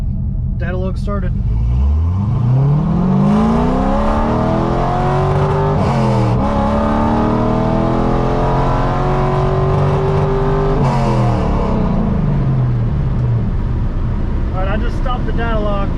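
A car's engine pulls hard through second gear, the tone climbing steadily and loudly before easing off, then a fresh rise begins at the end; close, sustained engine roar with no other sounds competing.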